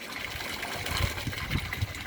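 Water gushing and gurgling as an aquaponics bell siphon drains a grow bed, a steady rushing flow with low irregular glugs near the end of the cycle.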